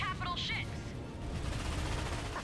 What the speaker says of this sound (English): Use the Star Watch ion cannon.